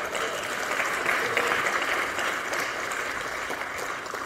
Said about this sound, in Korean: 다시 한번 송창경 위원장님께 뜨거운 박수 부탁드리겠습니다